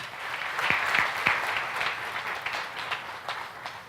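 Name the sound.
congregation applause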